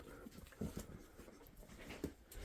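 Several dogs in a barn pant quickly and let out soft whimpers and small whines, close by and fairly quiet, with no talking.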